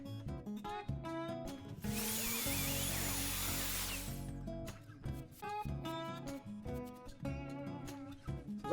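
A power router cuts wood for a Raspberry Pi 4 bar-top arcade cabinet, making a loud, steady whining roar that lasts a couple of seconds, heard over background music.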